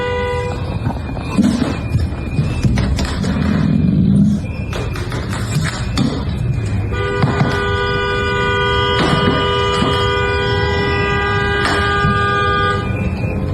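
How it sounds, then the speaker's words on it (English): Car and truck horns honk at a street protest in repeated, overlapping blasts, some long and sustained and others short, loud and close above a constant murmur of traffic and crowd. "I want to shoot everybody who's honking the goddamn horn."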